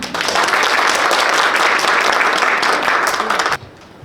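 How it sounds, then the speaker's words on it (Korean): An audience at a Korean literary award ceremony applauds to welcome a poet to the stage, steady close clapping for about three and a half seconds before it cuts off abruptly. "이병일 시인님을 박수로 모시겠습니다."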